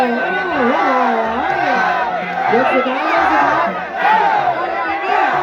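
A dense crowd shouting and cheering at a rural Isan Muay Thai boxing bout, with loud, continuous yells and rising whoops close by, and a commentator talking over the noise.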